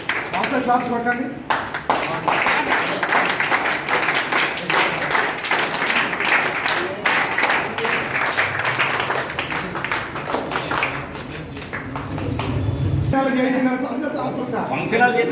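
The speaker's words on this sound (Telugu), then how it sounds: "క్లాప్స్ కొట్టండి." An audience claps at a couple's wedding anniversary celebration, a scattered burst of applause mixed with voices talking over it.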